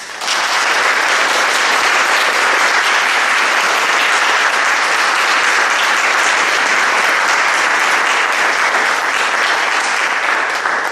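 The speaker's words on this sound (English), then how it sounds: "Please join me in a round of applause." Sustained audience applause at a corporate philanthropy roundtable event, loud, dense and steady for the whole stretch, with no voices over it.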